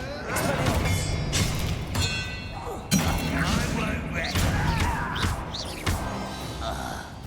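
Hogwarts Legacy combat with the Bombarda blast spell, a series of heavy thuds, crashes and whooshing impacts mixed with shattering debris, loud and close, with game voices and effects layered over the fight.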